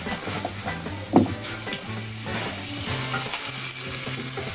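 Food for pho sizzles and fries in a hot pan, a steady close crackle with a sharp clatter early on and a low rhythmic hum beneath.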